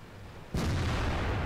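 A single loud cannon blast from a light tank in a World of Tanks-style battle on El Hallouf, booming in suddenly at about half a second and leaving a long, rumbling tail.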